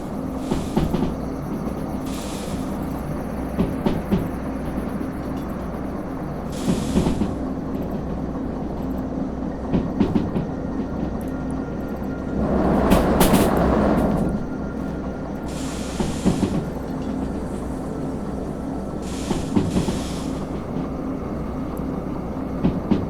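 A train in the Derail Valley game rolls and brakes with a steady low rumble, repeated rail clicks and a broad hissing surge midway, loud and continuous with no talk.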